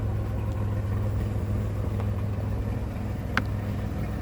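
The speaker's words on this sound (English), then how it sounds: "As you can hear, no miss in the motor." A 1964 Chevy C10 pickup engine idles steadily with a low, even rumble and no misfire, a faint click partway through.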